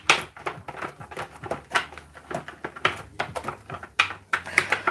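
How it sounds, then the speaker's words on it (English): A deck of cards shuffled close up, a rapid train of crisp flicking riffles and soft slaps repeating steadily, with no voice. "Lucky, I'm going to just shuffle up my deck and grab one for you."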